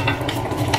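Pork sizzles and crackles in a hot pan as it is stir-fried, with brief scraping stirs, close and fairly loud.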